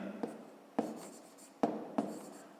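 Pen or pencil writing by hand on paper during a fifth-grade math exercise, a few distinct scratchy strokes and taps spaced apart, quiet and close with no talking.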